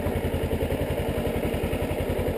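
A Kawasaki Ninja motorcycle idling close by before a short neighborhood ride, its engine giving a steady rapid pulsing throb without voices.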